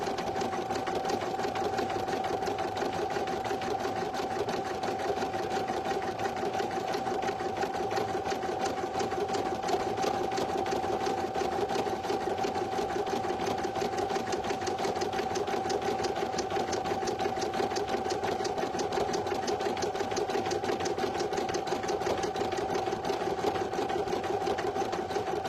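A single-needle embroidery machine stitches a design onto a premade item, running a steady, continuous mechanical whirr with a fast rapid pulse, unbroken for the whole stretch.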